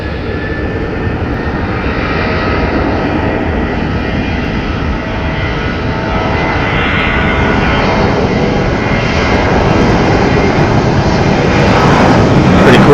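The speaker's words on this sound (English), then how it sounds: "Here's our Salt Lake City flight coming into frame here." An airliner on the Salt Lake City flight arrives at Phoenix Sky Harbor Airport with a loud, continuous engine roar that builds slightly as it draws nearer, with no talking over it.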